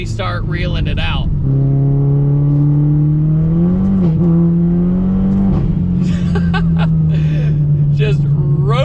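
A Chevy Cobalt SS accelerates hard through the gears, its engine note rising steadily in a loud drone. A person talks over it.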